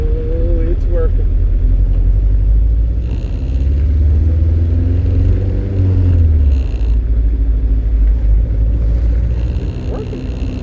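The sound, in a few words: 1987 Pontiac Fiero GT with K20 swap engine driving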